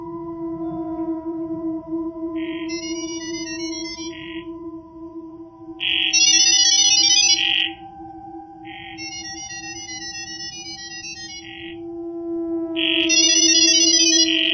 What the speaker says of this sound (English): What you just heard is called Gibberlink mode